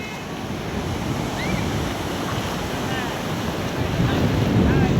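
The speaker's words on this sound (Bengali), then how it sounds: "ওই যে ঢেউ ওই ঢেউয়ের ওইখানে যাব" Sea waves roll onto the beach at Cox's Bazar, a steady broadband wash of surf with wind buffeting the microphone, swelling slightly louder toward the end.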